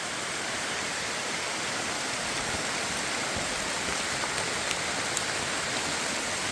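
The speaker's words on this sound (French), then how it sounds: "les bruits de pluie sur le micro" Rain drums on a phone microphone in the Guiana rainforest, a loud, constant wash of close pattering with occasional sharper drop hits, uniform throughout and with no voices.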